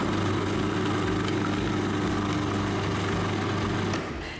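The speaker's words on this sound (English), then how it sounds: "So I'm just going to give that a whiz." A food processor whizzes butternut pumpkin into hummus, a steady loud motor drone with a grinding churn that runs continuously and then drops away at the end.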